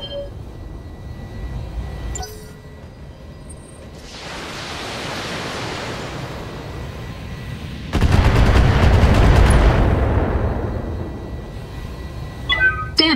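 Heavy weapons fire in the BattleTech video game: a dense roaring barrage of blasts that swells, fades, then erupts again louder, with no talk over it.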